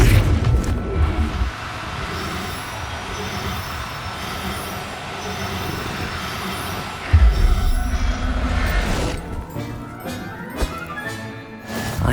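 A Bombarda spell explosion in Hogwarts Legacy: a sustained rumbling roar, then a sharp booming burst midway, followed by crackling debris and lingering rumble.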